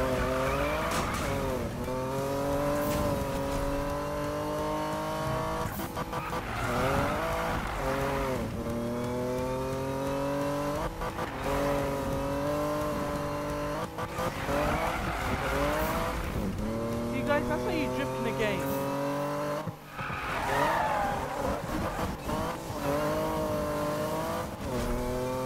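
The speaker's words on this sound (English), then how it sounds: "I don't know if you call that drifting or just like spinning your wheels" Car engine revving and rising in pitch through repeated acceleration runs in Need for Speed, wheels spinning and drifting with tire squeal, loud and continuous under a steady game soundtrack.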